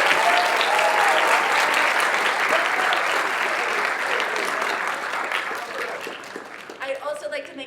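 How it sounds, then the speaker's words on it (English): Audience at a high school band and chorus winter concert breaks into sustained applause, dense and loud at first, gradually thinning out before a voice begins talking near the end. "a round of applause for, there she is,"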